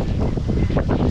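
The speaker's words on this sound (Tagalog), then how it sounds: "Medyo mahangin yata ngayon, no? Ang lakas ng hangin." Strong wind buffets the microphone in loud, gusting rushes with no other sound.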